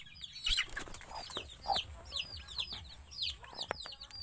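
Native chickens on a Philippine farm cluck in short, repeated calls at close range, with scattered sharper squawks and faint rustling between them.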